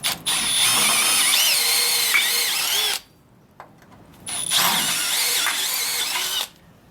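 A power drill whines loudly drilling a clearance hole for a railroad motorcar corner, in two long bursts of about three and two seconds, separated by a short pause with a faint clunk.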